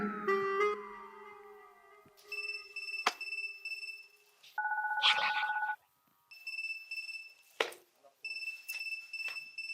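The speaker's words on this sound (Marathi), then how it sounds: "कोणाचा फोन वाजला" A mobile phone rings with an electronic ringtone: a falling tone, then repeated bright beeping phrases broken by short pauses, fairly clear and close.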